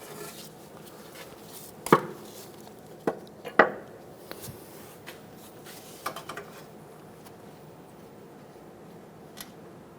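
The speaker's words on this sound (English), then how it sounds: "Using a 22mm wrench, we're going to loosen the oil pressure switch." A 22mm wrench working loose the oil pressure switch on a 2003-2007 Honda Accord V6 3.0L gives a few sharp metallic clicks and knocks, close up, scattered across otherwise quiet workshop air.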